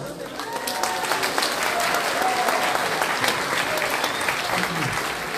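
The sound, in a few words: audience applause for the speaker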